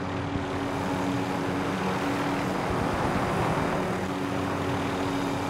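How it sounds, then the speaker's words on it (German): In Call of Duty Warzone, a helicopter flies back to base, giving a continuous droning rotor and engine hum at a steady, moderately loud level with no voices. "Heli kehrt zur Basis zurück."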